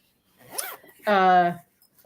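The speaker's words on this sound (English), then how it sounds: "this one zips" A zipper on a small pouch is pulled in two quick strokes, a short rasp and then a longer, louder buzzy zip, close and clear with no talk over it.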